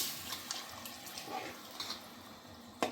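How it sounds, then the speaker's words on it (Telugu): Water is poured into gongura mutton curry with tamarind in the pot, a soft continuous splashing and trickling that ends with a sharp clink near the end. "కొంచెం వాటర్ పోస్తున్నాను"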